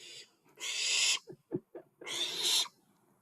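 A barn owl hisses in two long, breathy rasps with a few short clicks or snaps between them, close and fairly quiet with no talking.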